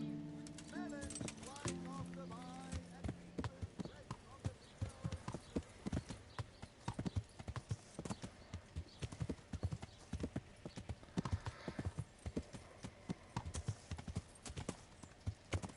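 The horse Pebbles clip-clops along in the game Kingdom Come: Deliverance, with rhythmic hoofbeats that come in after a brief musical opening and continue steadily and close, under occasional speech.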